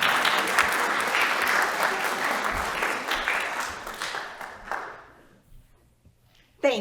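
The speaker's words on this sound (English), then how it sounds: "You may applaud if you wish." A theatre audience claps in a full, even burst for a crime-writers' gathering; the applause holds strong, then tapers and fades into near silence, with a brief sharp sound returning at the very end.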